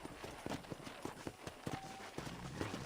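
Horse hooves clip-clop in the Red Dead Redemption video game, a steady run of sharp, evenly spaced hoof strikes at a trotting pace, close and clear over a soft background bed.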